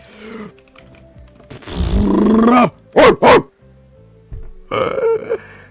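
A dog barks in the Minecraft game Hive from a player's skin, a growling, burp-like bark followed by two sharp, loud barks and another short bark, alone with quiet gaps between.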